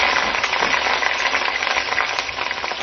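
Cut potato chips (fries) bubble and crackle in hot oil with a dense, continuous sizzle, close and fairly loud, and no voices.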